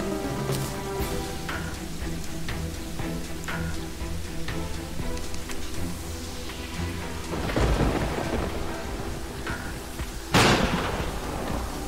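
Steady rain and rolling thunder from a thunderstorm in the Terraria video game, with a loud thunderclap near the end and background game music.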